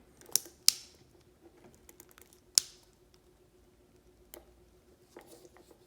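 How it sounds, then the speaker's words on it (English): Plastic pry tool working open a Volkswagen CC key fob, giving a few sharp isolated clicks and snaps with faint small plastic ticks between them, close and quiet. "I'm gonna use this plastic tool to press in between and press"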